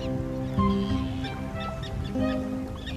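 Common terns calling at a busy coastal nesting colony, with overlapping harsh, grating cries and honking calls from many birds packed together, steady and dense throughout, a couple of louder nearby calls rising above the crowd.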